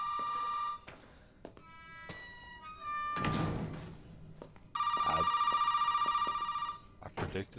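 A telephone rings with long electronic trills in the Resident Evil 7 video game, the rings broken by thuds and a heavy knock, close and loud.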